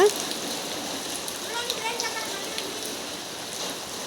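Heavy rain pours down in a steady, broad hiss without pause, close and fairly loud, with faint background sounds mixed into the downpour.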